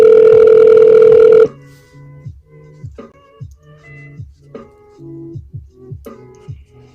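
A telephone rings loudly and steadily for about a second and a half, a sustained electronic tone, then cuts off and leaves quieter clicks and soft low knocking noises.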